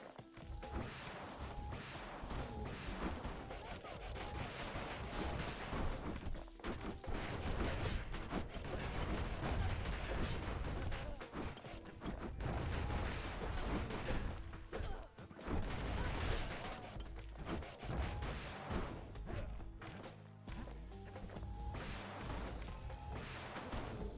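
The calamity cannon fires in the video game Bastion, a dense run of heavy booming blasts and crashes across the whole stretch, loud and continuous with brief lulls, and faint voices underneath.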